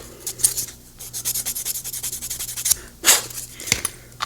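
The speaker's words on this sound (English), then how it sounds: "I want to make sure that this is sanded as flat as possible." Small plastic part of a Warhammer Chimera model rubbed flat on sandpaper, a close rhythmic scratchy back-and-forth rasp of about a dozen strokes, with a couple of sharper scrapes near the end.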